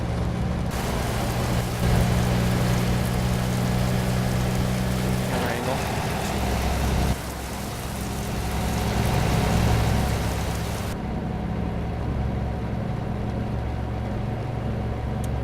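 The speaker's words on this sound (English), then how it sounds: "Definitely hitting some rain here." Rain drumming on a Volvo VNL 670 truck while driving in American Truck Simulator, a dense steady hiss over a low engine rumble that runs throughout, loud and continuous.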